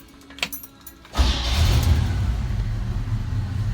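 A 1968 Chevy K10 pickup truck with 22,800 miles cranks and fires on a cold start after a few faint clicks, then settles into a loud, steady, low idling rumble with no talking.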